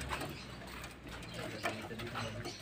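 Racing pigeons coo faintly in a fancier's loft, with soft, low, repeated calls under quiet background noise.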